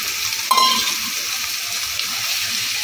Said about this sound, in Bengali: চানাটা দিয়ে মশলাটাকে ভালো করে নেড়ে চেড়ে নেব।